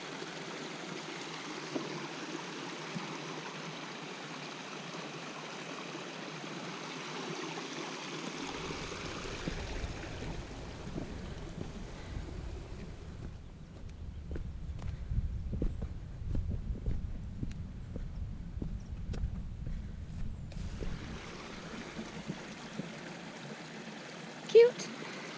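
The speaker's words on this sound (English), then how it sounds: "Nice little waterfall." A small waterfall and stream on Crowden Great Brook give a continuous soft rush and trickle, with low rumbling handling or wind noise in the middle and voices faintly present.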